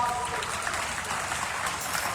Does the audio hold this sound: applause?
yes